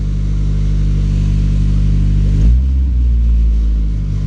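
A 1999 Mazda Miata engine idles loudly up close, then briefly rises in pitch as the throttle is blipped before settling back to a steady drone.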